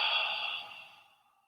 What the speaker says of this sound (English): breathing out, just whatever you don't need, just allowing the breath to release